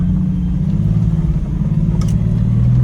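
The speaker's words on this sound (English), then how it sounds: "Now we're driving at 4 low." A 1999 Jeep Cherokee with the 4.0 engine drives in four-low, giving a steady, loud, low engine drone and road rumble that holds throughout with no voices.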